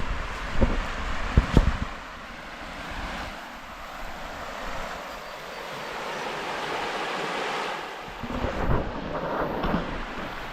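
A river runs right beside a campsite in the Australian high country, a steady broad rush of water with gusts of wind buffeting the microphone and no talk.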